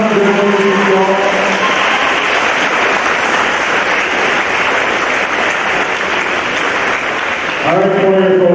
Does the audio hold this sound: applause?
yes